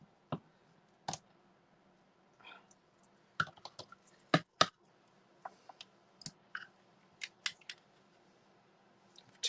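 Paper-craft scissors cut card stock in a quiet room with crisp, separate snips in an uneven rhythm, a dozen or so sharp clicks close to the microphone with short pauses between them.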